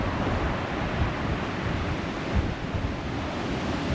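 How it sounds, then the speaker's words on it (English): Sea waves rolling onto the beach at Folkestone on a windy day, a steady broad wash of surf with wind buffeting the microphone. "there's the beach, and there's the sea. Lovely rolling sea,"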